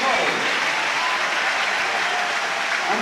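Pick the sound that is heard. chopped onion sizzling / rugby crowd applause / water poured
rugby crowd applause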